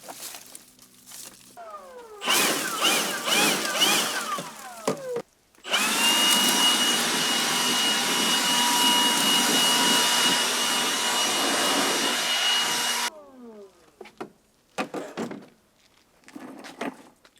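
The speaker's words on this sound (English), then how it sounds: "Battery-powered blower, light, no gas." A battery-powered leaf blower runs at close range with a steady broadband whoosh for about seven seconds, starting and stopping abruptly, with a faint tonal whine on top; scattered handling noises come before and after.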